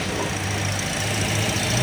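Toyota Vios engine idling after a tensioner replacement, a steady low hum with faint mechanical ticking under broad background hiss, even and continuous at moderate level.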